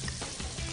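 Apples caramelising in butter and caster sugar in a frying pan over low heat, giving a steady, close, soft sizzle and bubbling throughout.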